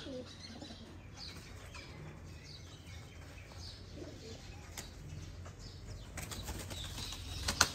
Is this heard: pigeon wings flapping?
yes